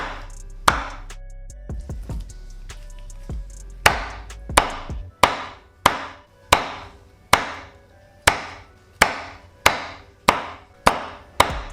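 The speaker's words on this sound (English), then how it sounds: "And now you want to cut this into bite-sized pieces for the tacos." A knife chops grilled chicken on a cutting board into bite-sized pieces for street tacos: sharp, close thwacks, a few early then a steady, evenly spaced run of about a dozen loud strikes, with no speech.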